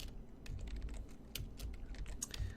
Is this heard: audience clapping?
no